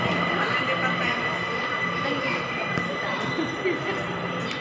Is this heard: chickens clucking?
no